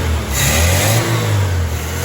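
A 1981 Dodge Challenger's small, lazy-running engine revs close up, a loud, steady rasping drone that swells slightly and settles, with no voices over it.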